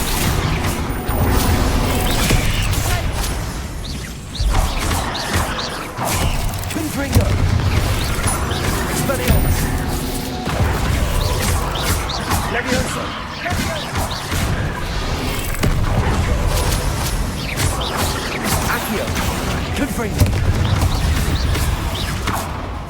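Fire curse explosions in Hogwarts Legacy go off amid a dense, continuous din of game combat, with repeated booms and crashing impacts filling the full stretch at steady loudness.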